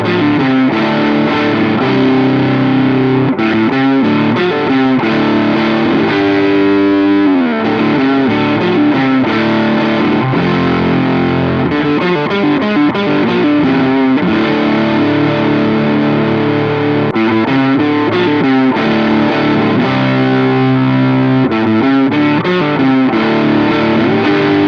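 An electric guitar with an uncovered pickup plays a fat, low-gain southern rock tone through mild distortion, with steady strummed chords and riffs sounding loud and continuous from start to finish, with no talking.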